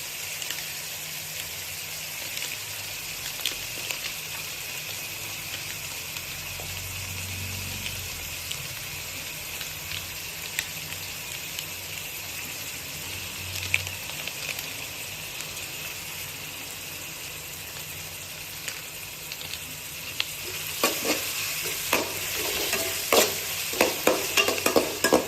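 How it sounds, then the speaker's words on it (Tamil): Ginger garlic paste frying with onions in a pan gives a steady close sizzle throughout, with scraping stirs growing busier and clattering toward the end; no one speaks. "ஸோ வெங்காயம் வச்சா நீங்கள் வந்து இஞ்சி பூண்டு பேஸ்ட் போட்டுக்கலாம்."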